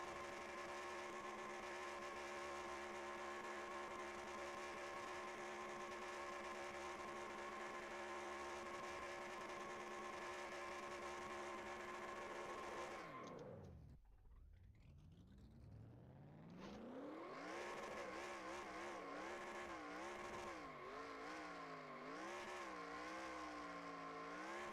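A race car in the NASCAR Racing 2003 video game revs hard through burnouts, a sustained loud engine drone with a sharp pitch drop and dip before climbing and wavering back to full revs, with no talking.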